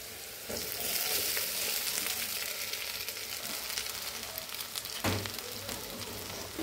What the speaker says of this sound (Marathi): व्यवस्थित फ्राय करते ह्याला।